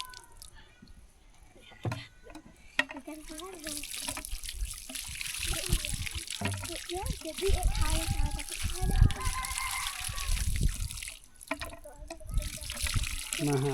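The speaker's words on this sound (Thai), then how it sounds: "มาหาบน้ำมาตักน้ำอยู่น้ำอาศัยแต่น้ำบาดาลเนี่ยพี่น้องก็น้ำห้วย" Water is scooped from a village stream in rural Laos, with irregular splashes and trickles close by while people, including a child, talk throughout.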